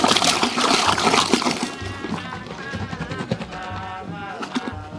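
Palm wine pouring into a 25-liter container, a steady splashing, gurgling stream heard close and fairly loud throughout.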